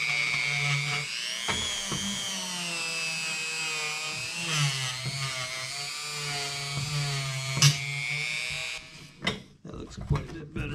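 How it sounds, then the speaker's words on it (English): Buffing wheel on a power tool polishing surface rust off an Indian Scout motorcycle part with metal polish, a steady high whine that holds loud for most of the span before cutting into short bursts near the end. "Metal polish and some buffing wheels. See if I can't get that"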